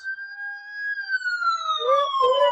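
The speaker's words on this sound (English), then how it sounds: "That's the sound of the police." A police siren wails loudly, its tone gliding steadily and then dropping, with a short warbling yelp near the end.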